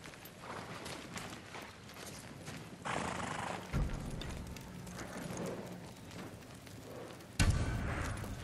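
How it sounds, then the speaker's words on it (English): Horses in the Ghost of Tsushima video game, with neighs and whinnies mixed with clip-clopping hooves over a busy game soundscape, with a louder burst near the end. "To the horses. They're samurai horses."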